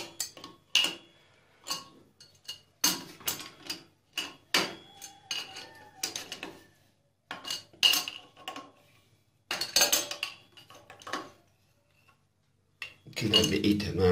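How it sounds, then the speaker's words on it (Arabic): Metal clicks and clinks of a wrench working a shower mixer cartridge come in short irregular bursts close by, with someone talking between and over them. "هتجيب مفتاح زي ده كده، حرك عليهم"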